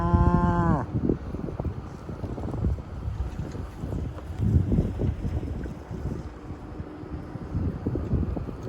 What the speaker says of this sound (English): I think I'm seeing some cows out here now.